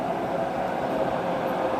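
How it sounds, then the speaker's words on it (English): A train rolling past near Baton Rouge, a steady broad rumble and rattle of rail cars that holds even and fairly loud throughout, with no voices over it. "Yeah, y'all see the train coming."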